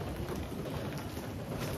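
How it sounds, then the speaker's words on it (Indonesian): Steady rain falls in a dense, even wash of patter and hiss with no breaks, fairly loud and close, with no voices. "Aduh, hujan nih."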